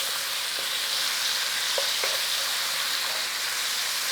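Chicken risotto frying in a pan with a constant hiss of sizzling, broken by a few soft scrapes of stirring.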